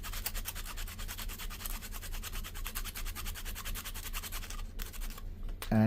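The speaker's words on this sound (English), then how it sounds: "let's grind some charcoal here" Charcoal being ground for drawing during a shadow-working portrait session, a steady close scratchy rubbing that runs continuously with an even, fine texture, ending in a brief louder knock.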